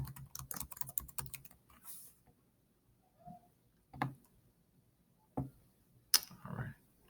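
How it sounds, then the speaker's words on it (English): Bursts of quick, close keystrokes clatter on a computer keyboard, a dense run at the start and then scattered single taps and short clusters separated by quiet gaps, with a faint murmur in between. "I'll just type this right here"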